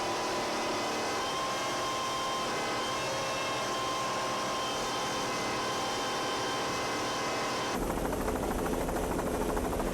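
Helicopter hovering over an offshore powerboat race at the 1998 Key West Offshore World Championships, with a steady loud rotor and engine drone throughout; the texture roughens and shifts near the end.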